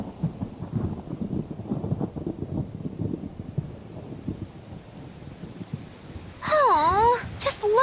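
Rain and thunder in the Tales of Berseria video game: low rumbling thunder rolls and steady rain in the first half, fading to a quieter patter, with a short burst of voice near the end.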